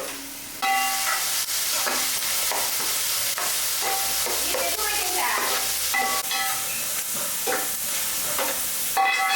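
Onions frying in oil and turning brown for gongura chicken, stirred steadily with scraping and clinking strokes over a continuous close, loud sizzle with no talk.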